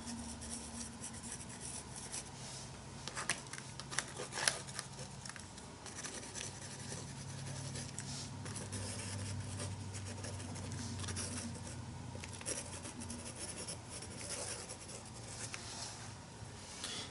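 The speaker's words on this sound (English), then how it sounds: "I'm not really writing, I'm just kind of inscribing things." Pencil end, a Stabilo, scratching and inscribing into a surface, a steady faint rasp with small uneven strokes running throughout, close and quiet with no talk.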